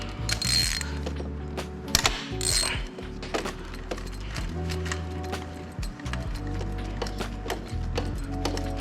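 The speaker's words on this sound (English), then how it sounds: "Then I'll hook on my ratchet." A ratchet removes a spark plug from a Kia Stinger GT engine, giving close, repeated metallic clicking and whirring in uneven bursts, with occasional knocks of the tool against the engine bay.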